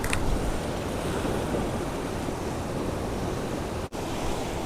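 Sea waves breaking against rocks on a shore, a steady, dense roar of surf with constant wash and spray, close and loud throughout with no pause.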